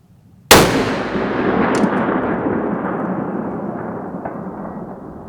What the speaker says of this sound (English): so this first shot I am going to see if I can hit it without holding any wind